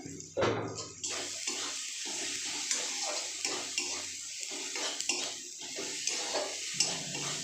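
A small splash of water poured into a cooking spice paste for chicken curry, with soft pouring and stirring sounds while a voice talks over it.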